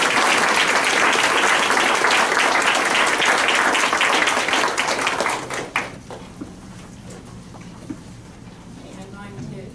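Audience applauding retirees at an evening ceremony: loud, dense clapping for about five seconds, then tapering off to scattered claps and quiet room noise.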